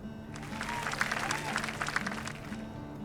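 A crowd in the video game My Time at Sandrock bursts into applause for a bridge construction team, a moderately loud, even patter of clapping that rises and holds for a few seconds.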